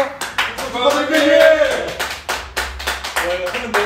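Group clapping at a party in a tent bar celebrating a gang boss's release from prison, several people applauding in short bursts while voices talk and cheer over it nearby.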